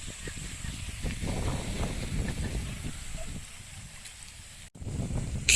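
Wind gusts buffet the microphone outdoors on the Great Glen Way near a loch, a rough, fluctuating low roar that dips briefly and then surges back.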